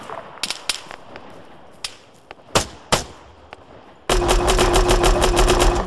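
Rifle shots ring out in an ARMA III firefight, several sharp separate cracks, then a loud sustained burst of rapid automatic fire with a steady whine underneath.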